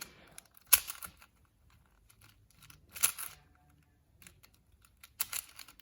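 A magnetic Rubik's cube is turned in quick twists, three sharp clicking bursts spaced about two seconds apart with faint plastic rattles between, close up and alone.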